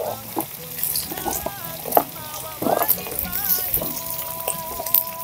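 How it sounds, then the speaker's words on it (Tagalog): Carrots and carabao meat sautéing in a hot pan, a steady sizzle with soft stirring clatter and scattered pops, fairly close, with no voices. "Okay, ilunod natin ang ating carrots."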